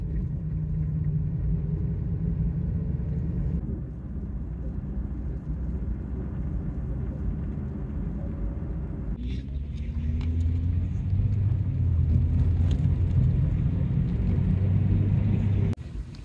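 Car arriving to pick someone up, a continuous low engine rumble that shifts in pitch as the vehicle approaches and idles nearby.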